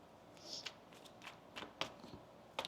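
Tarot cards being shuffled, a run of soft riffling and snapping bursts close by, with a sharper flick near the end and no talking.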